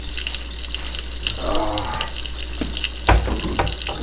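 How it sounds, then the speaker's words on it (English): Water runs from a kitchen tap into a sink while venison sirloin tip stew is prepared, a steady splashing stream with brief clatters, no talking. "keep that water running."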